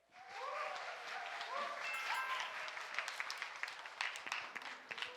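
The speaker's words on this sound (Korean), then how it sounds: "형사 모의 재판 첫 번째 발표팀 우리 형곡고등학교를 큰 박수로 맞아주시기 바랍니다." An audience at a high school mock criminal trial competition claps to welcome the presenting team, applause swelling and sustained beneath a voice at the start and thinning into scattered claps.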